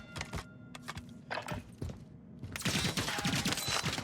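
Rapid bursts of gunfire in Call of Duty Warzone break out loud and close after scattered thumps, firing almost continuously over the last second and a half.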